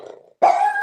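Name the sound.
dog barking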